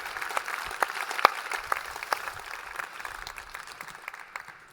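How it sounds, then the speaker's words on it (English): A short round of applause at a software talk for event helpers: a small group claps with distinct scattered hand claps, fairly quiet and thinning out as it goes. "I want to give a short hand of applause for those who are helping out"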